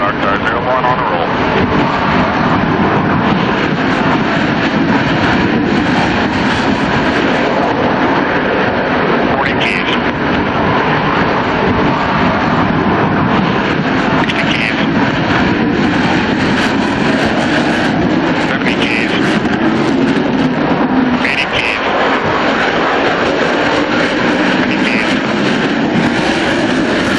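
Dark Star unmanned aircraft jet on its takeoff roll across Rogers Dry Lake at Edwards Air Force Base, a loud, steady engine roar that swells and rumbles continuously throughout, with a voice talking over it.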